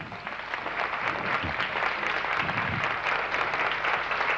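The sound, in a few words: studio audience applause on TV show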